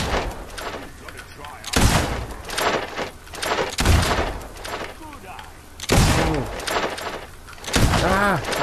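Sharp gunshots from Fable 2 crack in repeated bursts, several loud, close reports spaced a second or two apart, with voices talking between the shots.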